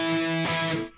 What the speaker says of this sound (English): Much better when I use that muting in there.